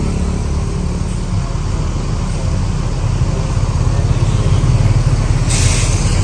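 A Hino RM280 intercity bus on the Jakarta–Padang route gives a loud, close, steady engine rumble with road noise that holds for the whole stretch, and a brief hiss rises near the end.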